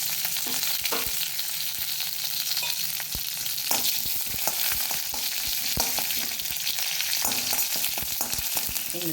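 Crushed garlic and curry leaves hit hot oil with mustard seeds for a South Indian tempering, a steady loud sizzle and crackle with sharp pops and stirring clicks scattered throughout, no voices.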